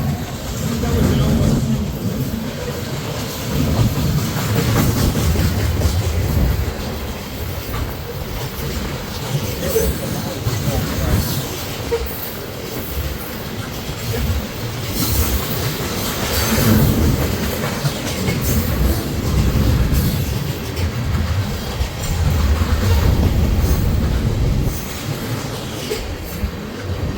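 A freight train with DPU locomotive 6900 rolls past close by for the whole stretch, wheels clacking rhythmically over the rails with steady rumbling and occasional squeals.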